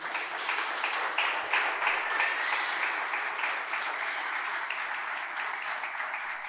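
Church congregation applauding together during a sermon, a steady, dense wash of clapping that holds evenly throughout with no voices over it.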